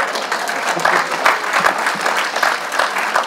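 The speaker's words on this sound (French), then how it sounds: "On peut l'applaudir." Congregation clapping inside a church during a French sermon, a short, lively burst of many hands with steady, even density.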